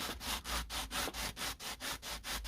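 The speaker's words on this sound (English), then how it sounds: "So I'm just going to use 180 grit sandpaper." 180 grit sandpaper rubs rough edges smooth on a flat surface in quick, even back-and-forth strokes, about eleven close, rasping passes in a steady rhythm.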